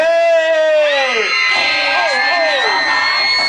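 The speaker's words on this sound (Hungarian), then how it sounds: "Mindenki kiabál, SP, hey, hey, SP." A concert crowd at an outdoor summer venue on a lakeside beach shouts and chants together, loud and close, with high rising whoops and cheers layered over a mass of voices.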